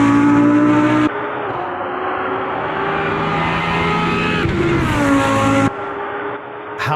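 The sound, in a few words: Lamborghini race car engine in Automobilista 2 video game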